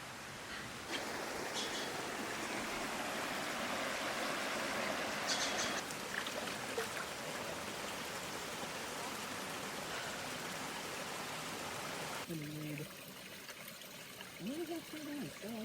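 Water flows and splashes steadily at Sykes Hot Springs along the Pine Ridge Trail in Big Sur, California, a continuous nearby trickling rush that fills the scene, with a few brief tonal sounds near the end.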